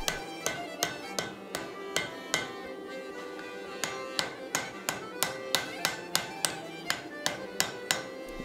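A bearded axe is hammered on an anvil with sharp, ringing metallic strikes in a steady rhythm, about two or three per second, each with a bright clang and short decay, close and loud.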